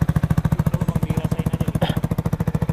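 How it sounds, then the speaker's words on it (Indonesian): A Yamaha R15 motorcycle with a leaking exhaust after a crash runs close and loud, its engine pulsing in a fast, regular chuffing beat that continues throughout without talk. "tadi kok suara knalpotnya beda ya"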